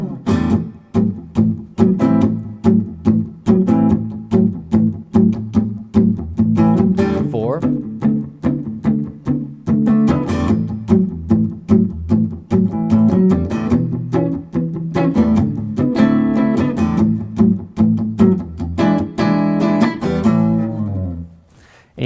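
Electric guitar playing a 12-bar blues progression in A, with a steady strummed shuffle rhythm, loud and close throughout, winding down to a final chord at the end.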